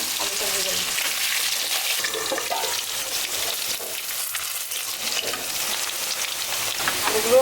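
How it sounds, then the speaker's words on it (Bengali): Steady frying sizzle of potatoes in hot oil, with a few faint stirring scrapes, close and continuous throughout. "আলু হচ্ছে ভেজে নিব"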